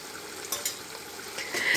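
Yogurt drops into a hot pan of sizzling Hyderabadi chicken pulao, a continuous frying crackle with a few soft plops and a brief swell of sizzle at the end.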